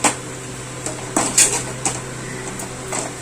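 Semiya upma being stirred in a cooking pan, a utensil scraping and clinking against the metal in a few scattered, soft knocks over a low steady hum.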